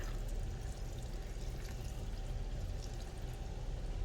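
Water pours steadily for a few seconds into a sensory bottle, a continuous splashing stream, with no talking.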